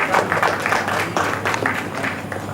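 Applause at a medical conference for Dr. Ajay Kumar: a fairly loud, uneven burst of clapping from the audience with a few sharper individual claps.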